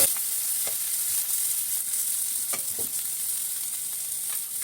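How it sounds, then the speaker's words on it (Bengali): Chopped onions, black cumin and slit green chilies fry in hot oil in a pan, giving a steady, close, bright sizzle with occasional soft stirring clicks and no talking. "এখন একটু কালো জিরা দিয়ে দেবো পেঁয়াজ কুচি দিয়ে দেবো কাঁচামরিচ ফালু দিয়ে দিচ্ছি এগুলো ভাজা ভাজা করে"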